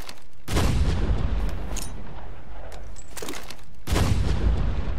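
Impact grenades explode in a first-person shooter video game: three loud, booming blasts, one near the start and two close together near the end, with rumbling gunfire-like noise between them and no talking.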